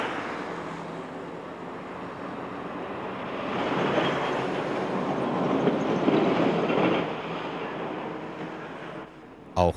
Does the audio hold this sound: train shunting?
yes